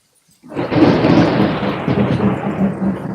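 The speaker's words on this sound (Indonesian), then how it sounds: "tadi ada geluduk guys di situ" Loud thunder rumbles in during a rainstorm at home, a long rolling boom that starts abruptly and keeps grumbling close by over steady rain, with no talking.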